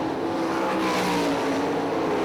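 Sprint race cars roaring through turns 3 and 4 at Hartford Speedway Park in Michigan, a loud sustained engine howl from several cars close together, with no break in the noise.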